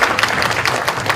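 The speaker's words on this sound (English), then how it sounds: "Let's give another round of applause for our incredible panel." Audience applause for a conference panel, a brief steady patter of many hands clapping together, fairly loud and close, with no voices over it.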